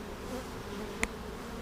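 Honeybees buzz continuously inside a comb honey hive, a dense close hum with one sharp click near the end and no talking.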